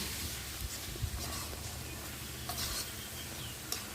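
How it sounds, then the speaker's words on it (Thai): Pork cracklings stirred into a chili paste in a pan, a spoon scraping and tossing the mixture with a light sizzle under soft room noise and faint intermittent clinks. "ใส่แคบหมูเข้าไป คนให้เข้ากันนะคะ"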